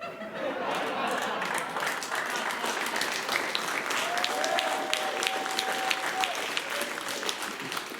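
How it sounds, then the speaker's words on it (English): An audience claps steadily for the full stretch, a dense and even wash of applause with faint laughter and murmurs mixed in. "Who the fuck claps at that?"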